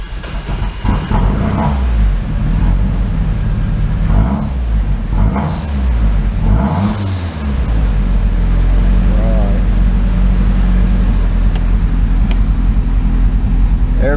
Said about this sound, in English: Let's see how this turbo sounds.